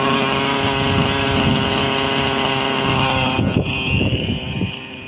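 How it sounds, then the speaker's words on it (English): A Hirobo Lama RC helicopter's small engine runs rough and unstable while tuning is underway, a loud, close buzzing hum that wavers and sputters toward the end. "The engine is not stable now because we have to fight tuning again."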